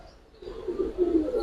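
Low, soft cooing from Giribaz and Afsan Bagha pigeons, a steady murmuring coo that swells after a quiet start, close by with faint background noise.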